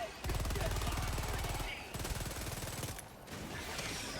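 Rapid automatic gunfire in the video game Helldivers 2, a dense, loud stream of shots that pauses briefly and resumes, with a voice speaking over it.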